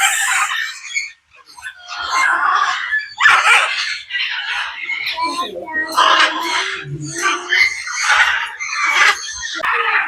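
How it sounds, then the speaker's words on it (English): Parrots in a nature sanctuary in Barbados give loud, close, repeated squawks and raspy calls that overlap almost continuously, with brief gaps between bursts. "these are some pretty parrots."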